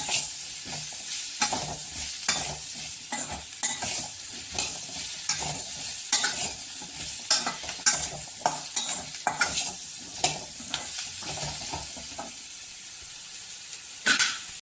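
Steady sizzling of yellow pumpkin and green chilli frying in a pan, with repeated scraping strokes of a spoon stirring throughout, close and fairly loud.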